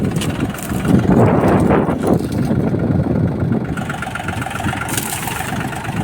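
A tractor overloaded to the point of nearly tipping: its engine runs with a close, steady, throbbing mid-to-low rumble and a rough rattle, holding a constant level throughout.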